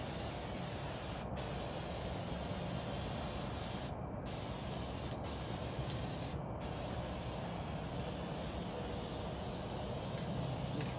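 Aerosol spray paint hissing steadily while coating a TV tray table outdoors in cold, windy air, one long continuous spray broken by a few brief pauses, close to the mic with no talking.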